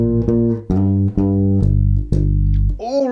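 A bass guitar plays a simple walking bass line, about six clear plucked notes stepping in even rhythm, close and unaccompanied, with a short slide or squeak at the end.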